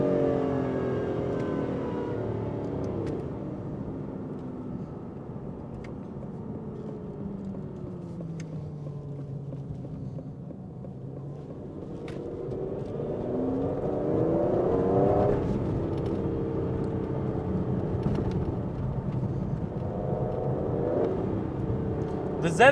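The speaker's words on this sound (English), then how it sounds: "It literally downshifts so cool and it upshifts aggressive." Aston Martin Vantage V12 Roadster with a ZF 8-speed gearbox, heard from inside as the engine rises and falls through several gear changes, pitch sweeping upward in repeated pulls, with someone talking over it.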